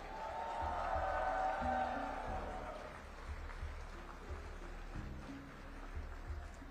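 Crowd cheering and applauding at the inaugural C-295 aircraft landing ceremony at Navi Mumbai International Airport, a broad swell of distant cheers that peaks early and fades to a steadier murmur over a low rumble.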